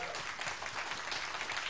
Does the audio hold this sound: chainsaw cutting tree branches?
no